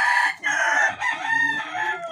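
Chickens and chicks on a small poultry farm, several close birds calling and clucking continuously over a couple of seconds, shrill and fairly loud.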